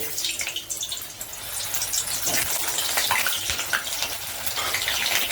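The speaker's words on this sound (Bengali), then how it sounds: "এর মধ্যে আমি এবার আলুগুলোকে ফ্রাই করে নেব।" Potatoes fry in hot mustard oil, making a loud, steady, close sizzle full of crackling spatter that continues without pause and builds slightly over time, with no voices.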